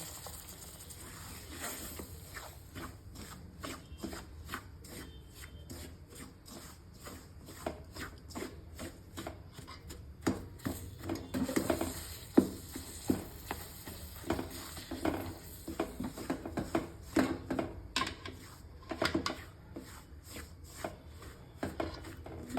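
Butter melts in a pan over a low stove flame for chakli, giving off soft, steady sizzling crackles and faint pops. The sound is quiet and close, with more popping later on, and no one speaks.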